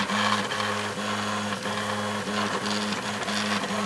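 A 3D printer lays down PLA filament infill, its stepper motors buzzing in a steady, repeating rhythm of short tonal pulses that continue evenly throughout, close and moderately loud with no voices.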